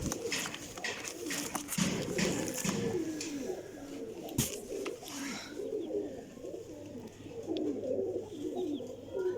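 Several pigeons coo softly and repeatedly nearby, overlapping low burbling calls with a few rustles and a brief clatter partway through.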